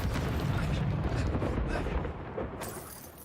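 A Reducto blasting spell explodes in Hogwarts Legacy, giving a loud, rumbling burst of noise that holds for about two seconds and then falls off into a softer tail.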